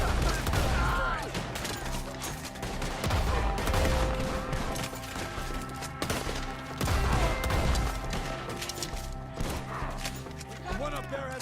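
A Red Dead Redemption 2 shootout: dense, continuous gunfire and repeated shots fill the whole stretch, loud and close, with shouting voices mixed in under the barrage.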